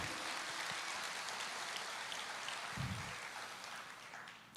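A church congregation claps for the Lord in a steady, dense wash of applause that lasts the whole stretch and fades slightly toward the end.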